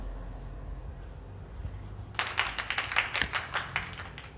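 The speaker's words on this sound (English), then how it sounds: "I literally just heard applause." Scattered applause starts after about two seconds of quiet, a small group clapping unevenly for a couple of seconds against a low background hum.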